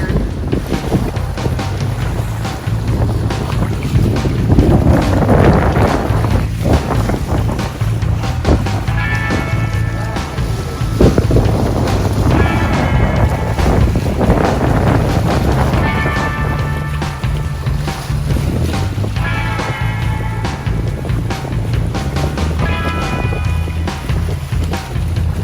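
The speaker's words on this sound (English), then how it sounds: "we surfed the waves and we're on our way in" A boat runs homeward through waves off Long Island in the Bahamas, with a steady roar of wind buffeting the microphone, rushing water and periodic splashing surges throughout.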